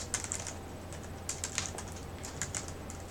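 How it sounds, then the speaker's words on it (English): Fingers tap quickly on a computer keyboard in a cold room while writing code: soft, close clicks in uneven bursts with brief pauses, and no talking. "I'm having a hard time typing."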